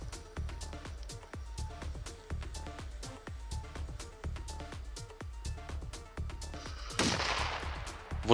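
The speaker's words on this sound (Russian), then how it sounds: "Вот это оглушительный взрыв." A Korsar 6 firecracker goes off underground inside a burrow, preceded by a run of sharp crackling pops, then a loud, close, rumbling burst near the end that collapses the burrow.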